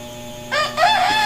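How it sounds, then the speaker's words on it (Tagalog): A pet rooster crows close by, a short loud harmonic cock-a-doodle call rising in two bursts over a quiet background hum. "Alagang manok niya."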